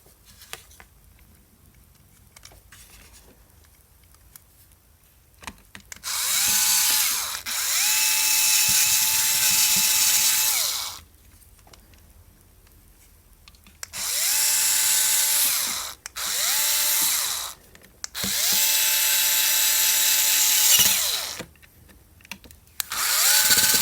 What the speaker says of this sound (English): I'm going to save some time by using my electric screwdriver for the other 2.